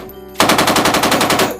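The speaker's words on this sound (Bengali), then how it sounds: "নিচে থেকে শুনতে পেলাম কয়েকটি গুলির শব্দ, সাথে কয়েকজনের চিৎকার।" A loud, close burst of rapid automatic gunfire from a sound effect in a dramatized audio story about fighting terrorists, about a dozen shots in even, quick succession lasting just over a second.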